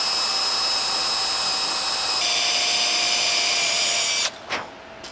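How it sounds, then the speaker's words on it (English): A power drill driving screws while fitting a hinge to a boat livewell lid, a steady high whine held for about four seconds close up, shifting pitch midway, then stopping with a brief clatter. "So I'm going to go ahead and drill out my top screw on this side and my top screw on this side"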